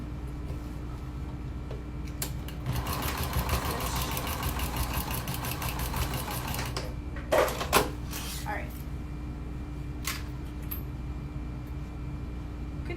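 A sewing machine runs a diagonal stitch line across a tote bag, its needle giving a rapid, even ticking burst of a few seconds, followed by a few scattered clicks and soft handling noises at low level.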